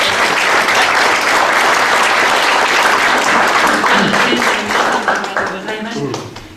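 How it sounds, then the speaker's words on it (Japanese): Steady, dense audience applause at a historic townscape forum in Matsushiro, Nagano, sustained for several seconds before tapering off slightly at the end. "皆さんもう一度拍手で。"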